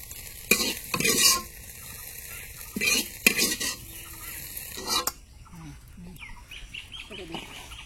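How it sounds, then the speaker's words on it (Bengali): Eggs frying in hot oil in a pan at an outdoor village cooking spot: steady soft sizzle throughout, with several loud bursts of stirring and scraping utensil clatter, voices talking in between, and a rooster faintly in the background. "তো আমাদের ডিম ভাজা হয়ে গেছে"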